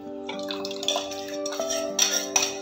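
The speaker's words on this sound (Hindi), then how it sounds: "इसमें डालेंगे थोड़ा सा पानी हम" A little water poured into a cooking pan while making dahi paneer on a gas stove, giving soft splashing and trickling with a couple of light metallic clinks over a steady background hum.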